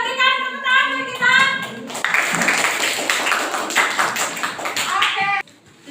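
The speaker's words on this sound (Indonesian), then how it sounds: "kita berikan tepuk tangan bagi kita" A classroom of pupils claps in unison for about three seconds, a dense, bright patter of hands that follows and trails into a teacher's voice, with children's speech before and after.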